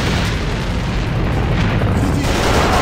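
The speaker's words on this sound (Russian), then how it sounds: "бросал гранату!" A grenade detonates in the online shooter AVA, a loud, dense, rumbling blast that fills the whole stretch with sustained roaring noise and no voices on top.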